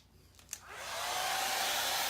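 A hair dryer switches on with a couple of clicks and then blows steadily and loudly, close by, drying a Chalk Couture chalk transfer of a globe design, with no talking.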